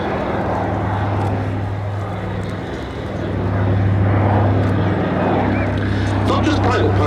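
A Consolidated PBY-5A Catalina flying boat performs at the Duxford summer air display, a loud, steady engine drone with a low humming tone that swells slightly partway through.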